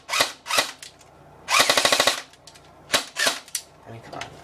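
A GHK PDW airsoft AEG fires in several short bursts and single shots, sharp rapid snapping clicks with a fast buzzing burst in the middle, close and loud with brief gaps between volleys.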